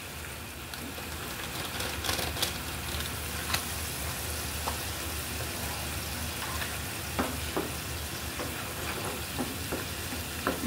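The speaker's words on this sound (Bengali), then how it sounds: "এরপর আমি ভালো করে এটা কষিয়ে নিব" Egg curry with eggs, salt and meat spice being sautéed in a pan, a steady broadband sizzle with occasional scraping stirs and light clicks of a spoon, close and continuous with no talk.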